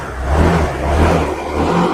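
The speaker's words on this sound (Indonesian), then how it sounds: "Sekali starter halus banget bosku, dengerin. Kita geber tipis-tipis." A stock, unmodified motorcycle engine with low mileage runs smooth and quiet, revved lightly in short blips with a steady low hum underneath, close by and with no talking.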